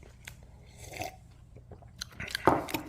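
Crisp bites and crunchy chewing of homemade apple pie with cinnamon and apple jam, a few close, irregular crunches over a short stretch, with the loudest bite near the end.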